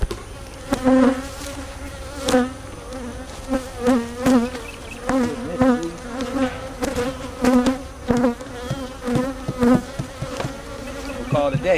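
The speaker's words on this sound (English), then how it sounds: "there's a lot of bees and honey in here" Swarms of honey bees buzz loudly around an open beehive packed with honey, a close, dense drone that swells and dips in pulses as individual bees zip past, with no talk.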